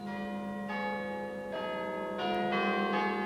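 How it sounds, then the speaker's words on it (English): Church bells peal steadily for the armistice ending the First World War, several bells overlapping in a continuous, loud ringing with new strikes layering in, no voices. "while the armistice bells rang out"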